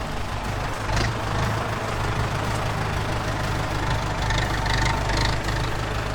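A tractor engine runs steadily at a close, constant loud level while lifting a stone into place during construction of a stone fireplace, with a low mechanical rumble and no speech.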